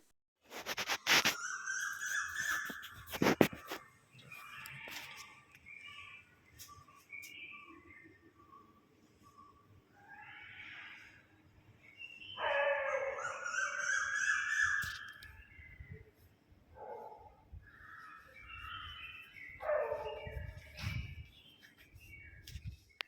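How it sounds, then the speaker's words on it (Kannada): Birds call outdoors in the morning behind a house with a jamun tree, giving scattered chirps and calls at moderate distance, with sharp knocks early on and a dog barking among the calls. "ನೋಡಿ ಇವಾಗ ಆ ಪಕ್ಷಿಗಳೆಲ್ಲ ಕೂಗೋ ಸೌಂಡ್ ಕೇಳ್ತಾ ಇತ್ತು, ಹಾಗೆ ತೋರಿಸ್ತಾ ಇದ್ದೀನಿ"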